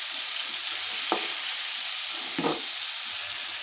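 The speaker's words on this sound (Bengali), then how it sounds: "তেলটা করে মাংসটা একটু ভাজা নেব।" Chicken meat sizzles steadily in hot oil in a pan for a Bengali chicken curry with radish, and two brief scrapes of stirring cut through the even hiss. No speech.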